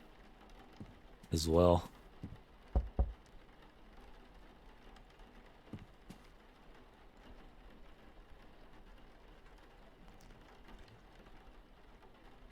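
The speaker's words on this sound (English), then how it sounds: "Of course it's raining." Steady soft rain patters through the video game Dreams in the Witch House as a constant low hiss, with a few brief louder thumps near the start and a voice speaking briefly over it.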